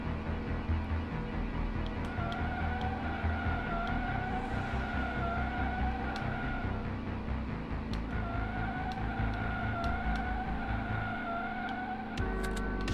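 A Lancia Delta-style rally car races in the retro driving game Slipstream, its engine droning and revving steadily with tonal whines and brief skids, loud and continuous throughout.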